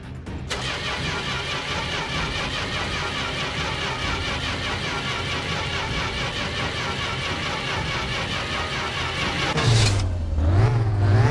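Corris Rivett car engine in the game My Winter Car, cranked and then catching and running, a loud, steady mechanical churn that rises into revving near the end.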